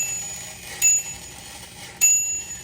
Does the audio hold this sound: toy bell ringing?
yes